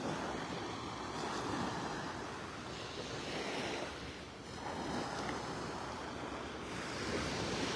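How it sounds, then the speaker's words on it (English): Small waves lap gently against a calm beach shore in North Naples, Florida, as a soft, steady wash with light wind rumble throughout, no voices present. "The water's fairly calm. A few little waves lapping on the shore."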